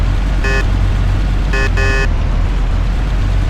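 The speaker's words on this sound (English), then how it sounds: "you should warn them by sounding the car horn" Car horn in the video game Mafia, sounding three short toots, one alone and then two close together, over a steady low engine and road rumble.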